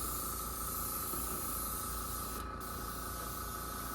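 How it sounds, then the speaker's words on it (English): Steady airbrush spray hissing at about 35 psi, close and continuous, as paint is applied to the roof of a Bachmann 1:20 scale narrow gauge wooden caboose, with a brief break near the end. "I run my airbrush at about 35 psi, maybe a little under that"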